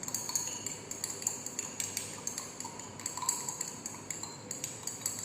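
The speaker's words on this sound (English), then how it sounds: "We need glass rod to dissolve it. We'll mix it" Glass rod stirring starch paste in glassware, with repeated light clinks and taps against the glass in a steady rhythm, fairly close and quiet, with no talking.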